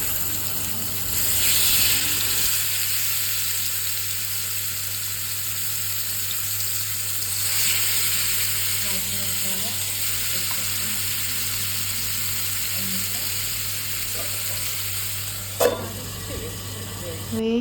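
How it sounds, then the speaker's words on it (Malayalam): Chicken pieces frying in hot oil over a low flame for masala alfaham, a steady soft sizzle running throughout with faint stirring and a brief clatter near the end. "ആ ഓയിൽ ചൂടായതിന് ശേഷം ലോ ഫ്ലെയിമിൽ വെച്ചിട്ട് ഇതുപോലെ ചിക്കൻ വെച്ച് കൊടുത്തിട്ട്"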